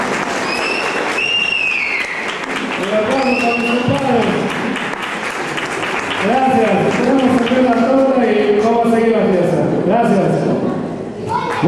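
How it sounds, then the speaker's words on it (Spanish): Guests at a baptism celebration applaud in a sustained, fairly loud wash of clapping that continues alongside talking and what sounds like music or singing in the room. "Un aplauso para todos los amigos."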